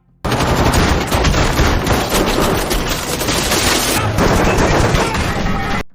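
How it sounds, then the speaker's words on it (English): Sustained, dense bursts of automatic gunfire rattle loudly and continuously, a relentless fusillade with barely a pause. "Gunfire erupted, and Kate and Vale tried to eliminate the enemies one by one."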